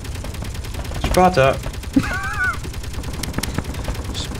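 Rapid gunfire in the game Space Engineers crackles continuously under excited talk, with a few sharper shots standing out.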